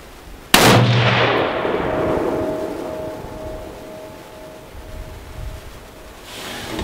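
A single loud rifle shot from a Savage Axis hunting rifle fired outdoors, a sharp crack followed by a long rolling echo and faint ringing that fades over several seconds.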